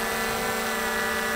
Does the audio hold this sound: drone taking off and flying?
yes